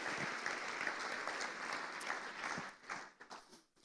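An audience at a Christian sermon breaks into warm, fairly faint applause that holds steady and then thins out into a few scattered claps at the end.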